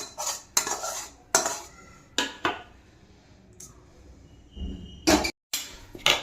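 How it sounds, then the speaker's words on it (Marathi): A laddu mixture is stirred in a pot, with sharp, loud metal scrapes and clanks in irregular bursts separated by quieter pauses. "मिक्स केल्यानंतर सगळं एकत्र एकजीव करायचं"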